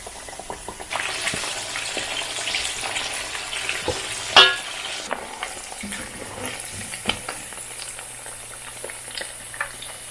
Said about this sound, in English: straight into the fryer, and we're going to fry this until it becomes golden brown